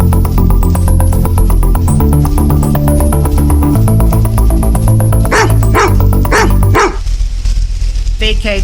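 A police dog barks in a series of loud, sharp barks over a steady, dense background of music and radio-style noise, with a final cluster of barks after the background drops away near the end.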